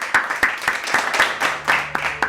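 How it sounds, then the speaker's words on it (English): Hand clapping from an unmuted online audience, with individual claps standing out at a steady pace rather than a dense roar, fairly close. "so that they can hear your applause."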